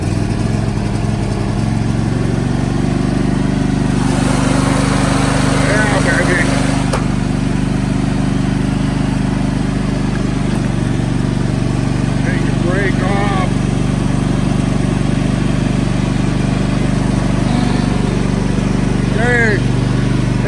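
A riding lawn mower engine runs steadily after starting, a loud continuous mid-pitched drone that dominates throughout with a steady hum and no breaks, recorded close by outdoors.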